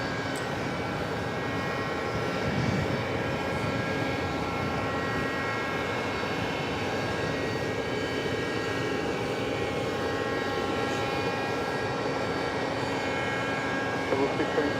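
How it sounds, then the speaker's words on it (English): A heavy Cathay Pacific Boeing 777-300ER on arrival at JFK, inbound from Hong Kong: a steady broad engine roar with a whining hum, held at an even level for the full stretch, with voices faintly audible over it. "Next arrival is a heavy Cathay Pacific Flight 830 coming from Hong Kong"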